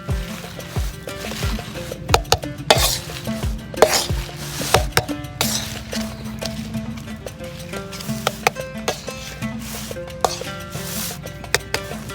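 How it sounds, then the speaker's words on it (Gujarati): Boiled potatoes being mashed for batata poha, with a steady run of soft, repeated thumps and squelches from the masher striking the pan, up close, over faint background tones. "તો બટાકાનો સૂંદો કરી દેવો આપણે નાનો."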